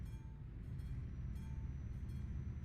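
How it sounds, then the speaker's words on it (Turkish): A train passing by on the Calais to Duisburg route, heard from inside a Renault Trucks T cab as a steady low rumble with faint rhythmic rail clatter, close and continuous. "Tren de geçtiğine göre."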